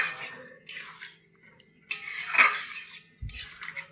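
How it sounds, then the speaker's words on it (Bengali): A lid set down over a pot of spicy red kabuli chickpea curry in a home kitchen, a few short metallic clatters and a brief knock, close and fairly quiet. "একটু ঢাকা দেওয়া থাক 10টা মিনিট"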